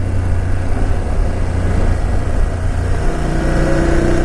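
A 2019 BMW F750GS motorcycle engine drones steadily while riding twisty roads, loud and continuous with wind noise and a shift in pitch near the end as the revs change.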